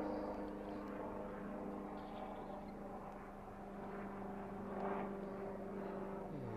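A steady helicopter drone fills the air near Bankstown Airport, continuous and moderately loud, swelling slightly near the end as it passes overhead.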